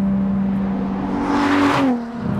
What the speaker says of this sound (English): That big naturally aspirated engine has a little bit of personality when you work with it.